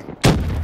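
A frag grenade bursts in a first-person shooter video game: one sudden, loud, booming blast after a brief quiet moment, ringing out briefly.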